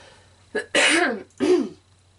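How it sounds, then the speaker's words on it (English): Two short coughs close to the mic, a brief sharp burst followed by a second, rougher cough, then quiet. "since I keep coughing"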